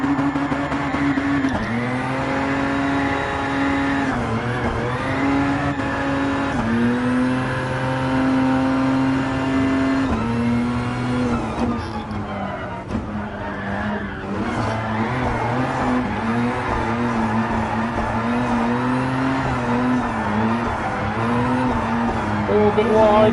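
A car drifting in Gran Turismo Sport revs hard with rising and falling engine pitch while tyres squeal and skid in long sweeps, loud and up close, with someone talking over it.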